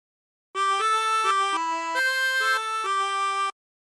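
A chromatic harmonica plays a short phrase of a song, about a dozen clear, sustained reedy notes stepping up and down, close and alone.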